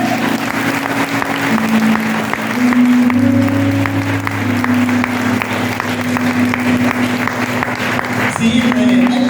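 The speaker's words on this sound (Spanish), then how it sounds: "Denle un aplauso al Rey." A church congregation bursts into sustained applause, loud and dense clapping from a crowd filling the room, with a low organ or keyboard chord held underneath and a voice briefly audible over it.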